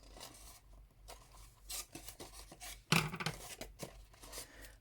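Scissors trimming patterned designer paper and tape while making a small gift bag for a body lotion tube: quiet, scattered snips and papery rasps, with one sharper cut near the middle, and no talking.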